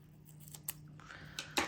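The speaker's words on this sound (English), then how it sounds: "I'm gonna cut this one also, and I'm gonna cut it where I ripped it." Scissors snipping paper for a Happy Planner spring spread: a few quick, close cuts in a quiet room, the sharpest snip near the end, over a steady low hum.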